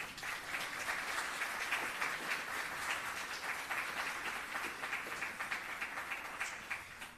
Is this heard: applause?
yes